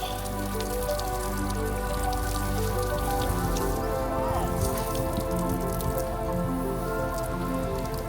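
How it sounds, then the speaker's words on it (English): Water splashes and patters continuously, like a shower stream running over someone rinsing off salt water after snorkeling, steady and close. "Washing all the salt water off after a snorkel."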